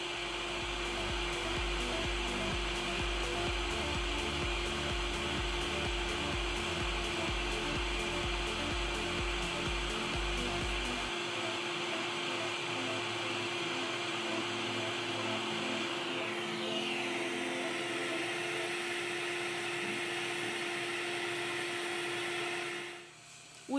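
A hot air rework station blows at 380 °C and 50% airflow while a part is removed from an iPhone 7 Plus motherboard, a steady close whooshing hiss with a constant hum that runs unbroken before cutting off.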